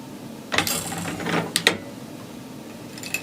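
A hand-cranked sock knitting machine is turned backward, giving close mechanical clicks, ratcheting and a short metallic whir, with sharp clacks in a brief irregular cluster and a quieter click near the end.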